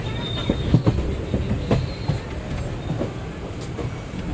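Long-distance train rolling past at Renigunta station, a steady rumble of cars with periodic wheel clacks and faint squeals, moderately close and continuous, no talk.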